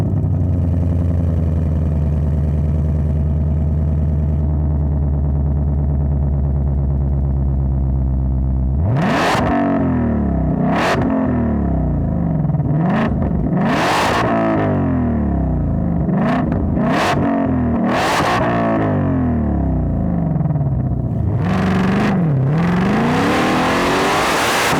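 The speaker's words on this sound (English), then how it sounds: "That screaming V8, the supercharger, that 7-speed dual clutch" A Ford supercharged 5.2-liter V8 with a seven-speed dual-clutch idles in a loud, low rumble, then screams through a series of sharp, high revs that rise and fall quickly one after another.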